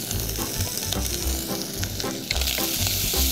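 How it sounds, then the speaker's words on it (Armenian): Onion and ginger fry in a pan with a continuous close sizzle, broken by a few stirring scrapes and knocks, and nobody speaks. "Շարունակում ենք տապակել"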